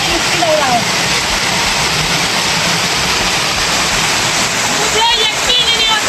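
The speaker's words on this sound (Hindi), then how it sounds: "मुझे यकीन ही नहीं होता कि मैं झरने के ऊपर हूँ" A waterfall roars loud and close in a continuous broadband rush, steady throughout, with a person talking faintly over it near the end.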